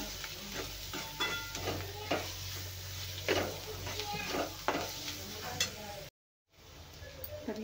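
Potato filling with red chili powder being stir-fried in a pan, a close steady sizzle broken by repeated spatula scrapes and stirring knocks, ending in a brief cut of silence.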